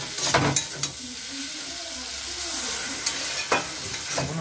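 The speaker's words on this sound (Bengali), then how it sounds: "এতে আমরা একটু জল দিয়ে দেবো।" Egg tadka sizzling and frying in a pan, a loud continuous hiss with a few scraping stirs and splashes, no talking.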